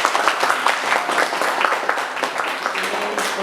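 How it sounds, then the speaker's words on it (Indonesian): A high school class of students claps together at the end of a lesson, a close, brisk round of applause with scattered voices mixed in. "Tepuk tangan untuk kita semua."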